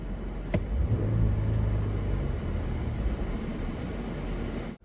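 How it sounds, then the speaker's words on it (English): Deep Dodge Durango SUV engine rumble close by, rising slightly in a brief rev before settling into a steady low growl, then cutting off abruptly. "Now let's rev it."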